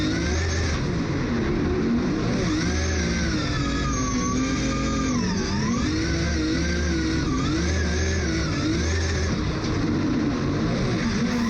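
James Deane's drift car screams through a reverse entry, the engine held at high revs with its pitch swinging up and down continuously. Loud and close throughout, with no speech.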